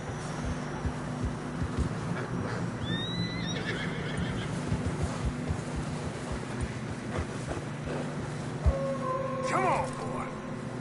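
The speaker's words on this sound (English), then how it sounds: "Horses are struggling." Horses whinnying in Red Dead Redemption 2 as they struggle through deep fresh snow on a narrow trail, two distinct neighs rising over a constant bed of wind, hoof movement and game ambience.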